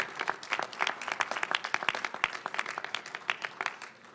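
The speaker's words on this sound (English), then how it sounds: "So give her a round of applause" Press conference audience applauding warmly, a moderately sized crowd giving dense, even clapping that stays fairly quiet and steady for a few seconds without any voices.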